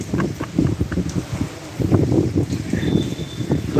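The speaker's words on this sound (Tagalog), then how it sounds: "Lakas ng hangin, lakas ng ulan." Steady blustery wind and rain during a typhoon buffet the microphone with a dense, rough rush, gusting unevenly throughout with a constant patter-like texture underneath.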